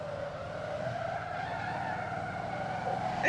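Car tyres squeal and skid during a drift in the driving game Motor Town, a sustained screech over engine hum that swells toward the end.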